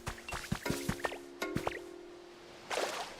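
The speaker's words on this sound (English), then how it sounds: "Oh, dang. I fell in the water." Video game character falling into water at a beach resort build, a string of quick drips and plops, several close splashy blips in succession followed by a pause and one final splash.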